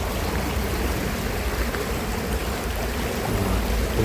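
Swollen River Rwaka after rain, a dense, continuous rushing roar of flowing water, close and loud throughout.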